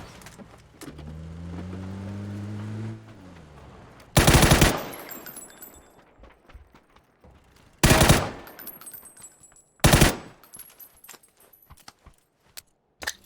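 Bursts of automatic gunfire ring out in the battle royale game PUBG, three loud, dense volleys between quieter stretches with a droning engine at the start and small clicks and rattles in the gaps.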